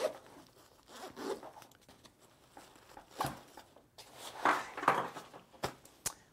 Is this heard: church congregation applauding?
no